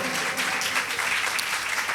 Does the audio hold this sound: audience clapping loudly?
yes